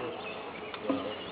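Honeybees buzzing inside an active beehive, a steady, dense hum that stays even and close throughout, with one brief louder swell near the end.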